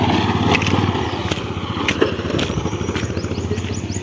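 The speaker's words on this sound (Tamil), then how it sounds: "ஓ, சவுண்டை கேட்டிங்களா பைக்கில்?" A motorcycle engine chugs steadily and close by while riding on a rural road, a rhythmic low-pitched thrum with occasional clatter, with no talk over it.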